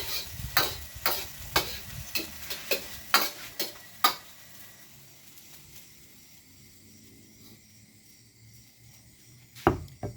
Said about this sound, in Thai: คนให้ส่วนผสมเข้ากันครับ